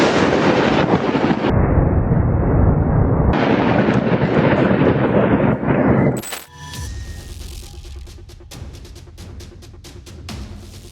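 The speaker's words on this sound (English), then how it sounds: "Thunder can reach around 140 decibels" A powerful thunderclap booms and rumbles loudly for several seconds, then cuts off abruptly and gives way to quieter, crackling ambient noise.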